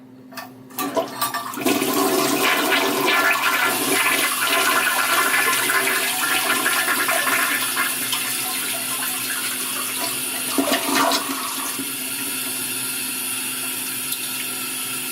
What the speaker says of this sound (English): So if you did flush it, I suppose it wouldn't go down.